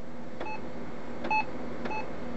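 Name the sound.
Brother MFC-9320CW printer beeper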